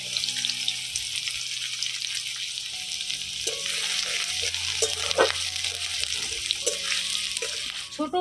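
Chopped onion hitting hot oil in a pan for a pumpkin dish, a steady close sizzle and fry with occasional stirring scrapes and clinks.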